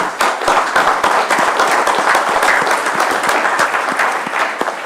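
Crowd at a tribal council meeting breaks into loud, sustained applause, dense clapping from many hands filling the room for several seconds before easing slightly.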